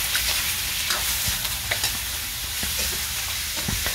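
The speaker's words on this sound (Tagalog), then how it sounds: "Igisa lang natin ng maigi mga ka-cooks." Pork ribs sauté with garlic and onion in hot oil, a loud steady sizzle and crackle with scattered spatters and scraping stirs throughout, close up and with no voices.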